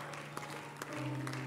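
A church congregation claps hands during worship, a brief stretch of soft, fairly even clapping with a low sustained hum underneath.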